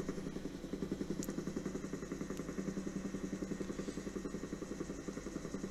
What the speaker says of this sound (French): Des pales, elle fouette l'air là